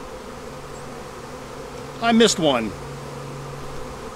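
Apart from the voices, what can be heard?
honeybees buzzing around a swarming hive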